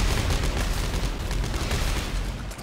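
Rapid, dense gunfire in the survival horror game Dead Space 3, a loud continuous barrage of shots and blasts filling the whole moment with no pauses.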